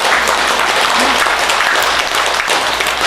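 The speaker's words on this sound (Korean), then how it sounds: "맞다면 박수를 한번 쳐봐." Audience clapping in a hall during a Buddhist dharma talk by a monk at a regional Buddhist center's monthly family service, a steady dense wash of many hands lasting the whole stretch without pause.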